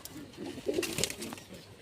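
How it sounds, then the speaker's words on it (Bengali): A Zeria Madras hen pigeon coos softly and close by, a few low throaty pulses over faint background noise, with a brief murmur of speech nearby. "তো আমি এসে ধরেছি এই পায়রাটাকে।"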